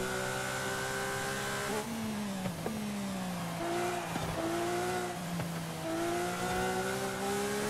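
A Lamborghini Aventador SVJ in the racing game Forza Horizon 5 accelerating hard, its engine note climbing in pitch, dropping at gear shifts and climbing again, with brief tire squeals mixed in.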